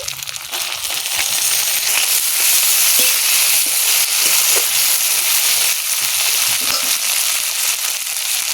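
Chopped onion, garlic, ginger paste and chopped tomato fry in hot oil for a fish-head moong dal, a loud, continuous close sizzle with crackling throughout.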